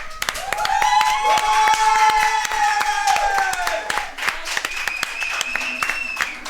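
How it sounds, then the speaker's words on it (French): A live crowd at a Lorcana card game tournament breaks into loud, sustained applause with sharp claps and cheering voices throughout, close and dense, while other voices talk over it. "La foule est en délire."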